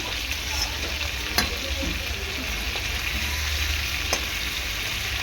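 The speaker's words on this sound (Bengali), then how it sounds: "ভেজে আমি তুলে নেব।" Large giant freshwater prawns frying in hot oil in a home kitchen: a continuous close sizzle with occasional sharp pops and stirring clatter, under quiet background noise.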